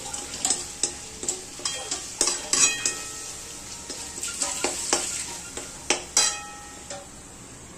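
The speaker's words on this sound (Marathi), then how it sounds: "आणि आता ह्या भाज्या याच्यामध्ये ना चांगल्या फ्राय करून घ्यायच्या" Vegetables for veg biryani frying with turmeric, red chili and coriander masala, a soft sizzle punctuated by repeated sharp clinks and scrapes of a spoon against the pan, no voices.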